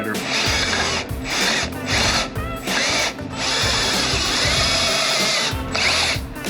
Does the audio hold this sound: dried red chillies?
no